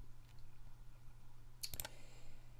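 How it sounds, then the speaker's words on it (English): A few quick mouse clicks selecting the rotate tool in GIMP, a tight cluster of sharp clicks near the end over a low steady hum, with silence around them. "So I'm just going to go ahead and click on that tool."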